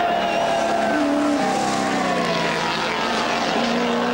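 Touring race car driven by Peter Brock pushed hard on the final lap, its engine droning loud and steady with shifting pitch as it passes, amid broad crowd and track noise.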